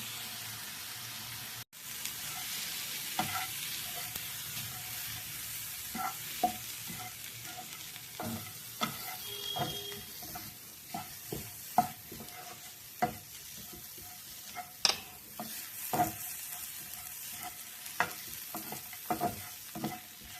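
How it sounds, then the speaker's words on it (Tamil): A tomato sautéing with roasted masala in a pan for a chicken gravy gives a steady low sizzle, broken by repeated soft scrapes and knocks of a stirring spoon, close and alone. "அதை அப்படியே இந்த மசாலா போட்டு வறுத்துக்கலாம் வதக்கி எடுத்துக்கிறேன்"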